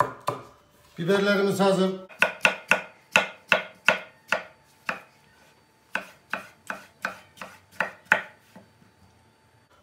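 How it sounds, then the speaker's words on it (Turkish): A knife chops tomatoes and peppers into large pieces steadily on a cutting board, a dozen or more sharp, evenly spaced knocks, after a short spoken remark at the start. "biberleri hepsini iri iri doğruyorum"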